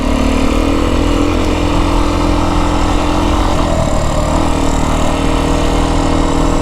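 A Beta 350 X-pro dirt bike on a mountain ride in southern Arizona, its engine droning loud and steady throughout, with a constant buzzing roar and no pauses.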